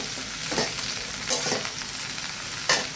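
Okra and slit green chillies fry in a pan over high heat. A steady, fairly loud sizzle runs throughout, broken by a couple of brief stirring scrapes, with no talking.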